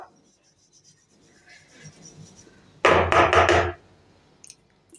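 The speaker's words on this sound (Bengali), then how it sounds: "আমার চালা হয়ে গেল বেসনটা" Gram flour (besan) is sifted through a sieve for jute-leaf fritters: a short, loud burst of rapid scratchy rubbing lasts about a second in an otherwise quiet kitchen.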